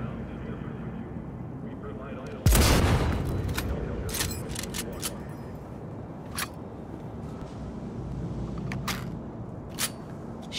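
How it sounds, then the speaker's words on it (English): Gunshots in Cyberpunk 2077 video game: one sharp loud blast followed by a trailing boom, then several fainter scattered cracks, with someone talking throughout. "can I shoot through this container?"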